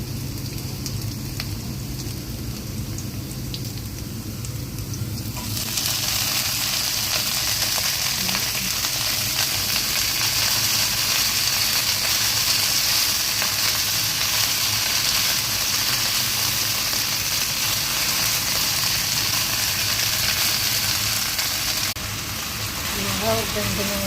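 Water spinach (kangkong) dropped into a hot pan for adobong kangkong, a loud steady sizzle of frying that jumps up suddenly and holds for most of the stretch, with a softer cooking hiss before it starts.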